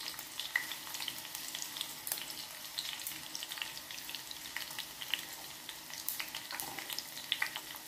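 Garlic and red Belgaum chilies fry in oil over low heat, giving a steady close sizzle with scattered crackling pops throughout.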